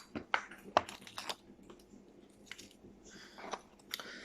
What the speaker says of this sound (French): C'est Monsieur Rusard qui croque des croquettes.